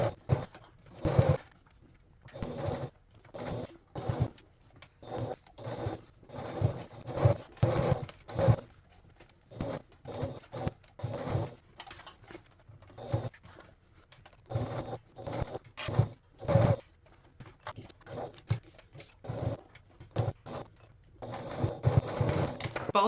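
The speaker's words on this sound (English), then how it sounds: "we're going to go back to the sewing machine and stitch the front panel just like we did with the back panel" Sewing machine stitching the front panel of a crossbody bag to its gusset, heard as repeated bursts of rapid mechanical whirring separated by short pauses, close and fairly loud with no talking.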